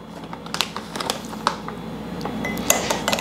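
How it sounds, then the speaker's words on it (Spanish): A spoon scrapes and clinks against a pot while sugar is stirred into a sweet egg mixture, giving irregular metallic taps and scraping over a steady low background hiss, with no talking. "vamos a ponerle tantita azúcar, lo vamos a revolver para que quede en una consistencia"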